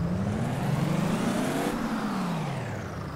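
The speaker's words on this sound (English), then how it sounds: "I'm a sucker for engine brake." A Kenworth truck's engine brake in Farming Simulator 22, a loud, droning mechanical roar that swells and then slowly falls in pitch as the truck slows, continuous throughout with no voices.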